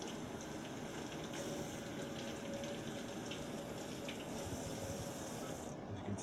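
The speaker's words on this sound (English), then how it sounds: "Just rinsing my hand off a little bit here." A kitchen sink tap runs as a hand is rinsed, giving a steady, even hiss of flowing water with faint splashing, continuous and fairly quiet throughout.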